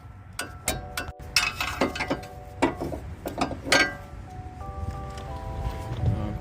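Close, clicky ratchet strokes come in uneven bursts while a 12 mm caliper bolt is loosened on a 2016 Ford Fiesta SE 1.6 during a front brake pad job, with faint metallic clinks and a low hum behind.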